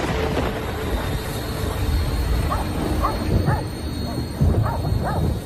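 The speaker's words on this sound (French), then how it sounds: "son chien s'est mis à aboyer, ce qui l'a réveillé" At night a dog barks over and over with yips and whines against a dense, steady background hiss, as in a documentary sound effect.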